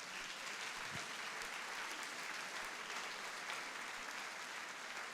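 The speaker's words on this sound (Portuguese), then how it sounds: "Uma salva de palmas para as mulheres" Steady applause from a crowd, a continuous wash of clapping at moderate distance that keeps an even level throughout.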